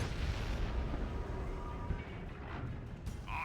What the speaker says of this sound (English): Baneblade and Lehman Russ shooting it out with a battle wagon